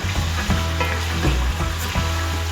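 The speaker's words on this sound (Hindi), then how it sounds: "ये देखिए मसाला हमारा भी भुन रहा है।" Masala of tomato, garlic, ginger and salt frying in a pan, a steady, close sizzle with soft stirring thumps every half second or so.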